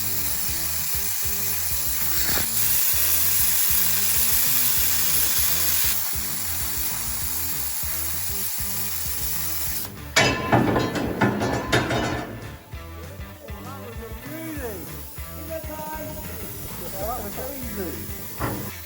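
An R-Tech P51D plasma cutter slices through thick, rusty old angle iron, giving a steady close hiss and roar that turns harsher and crackling midway, with the metal spitting and popping around it.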